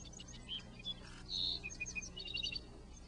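Sparrows chirp in short, scattered high tweets at moderate distance over a soft, steady outdoor background hum, with no voices present.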